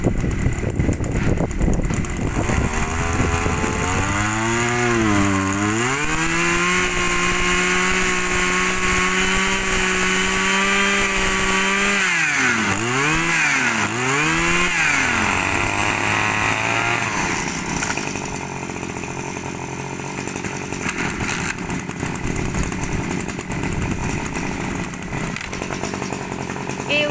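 Used Japanese-made brush cutter engine, a small two-stroke motor, running close and loud, revving up and down several times with a buzzing whine before settling back to a steadier idle.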